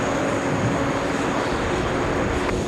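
Airliner accelerating down runway 22 right at JFK on a hot summer day, a steady, loud broadband jet roar with a sustained engine whine, continuous and unbroken throughout.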